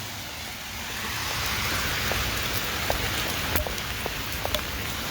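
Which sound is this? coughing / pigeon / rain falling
rain falling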